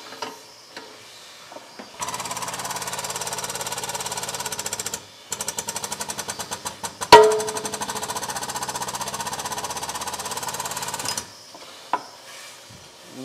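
Powered press pushing a bushing out of an engine connecting rod: a steady loud mechanical drone running for several seconds, a brief pause, then resuming with a sharp crack midway before stopping.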